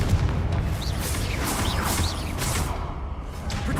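A Confringo spell blast in Hogwarts Legacy during combat against a crowd of enemies: a short run of booming, crackling explosive bursts with whooshes, loud and close, without talk.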